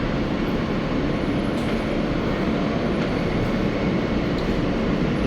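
A New York subway train rumbles through World Trade Center station in Manhattan, a loud, continuous roar of rolling wheels and carriage noise with faint rail squeals.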